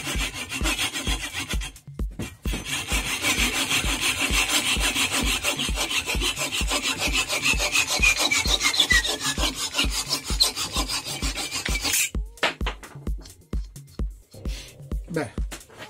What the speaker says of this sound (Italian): dobbiamo tagliare la parte spaccata. Per l'occasione inauguriamo la nuova sega giapponese della Parkside.